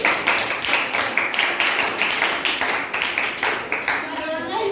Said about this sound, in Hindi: चलिए बच्चों के लिए ताली बजाइए